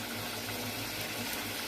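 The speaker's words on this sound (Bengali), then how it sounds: "ঝোলটা ফুটছে," Mustard hilsa fish curry bubbles in a pan, a steady faint simmering hiss and soft popping with no voices.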